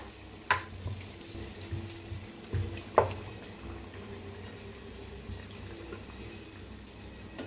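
Puris deep-frying in hot oil give a soft, steady sizzle with a few sharp taps and clicks rising above it near the start and middle, and no voices.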